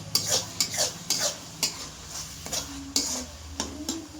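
Masala with ginger-garlic paste and a little chili powder sautés in a pan while a spoon stirs and scrapes through it in a steady series of clinks and scrapes over a low sizzle, close up.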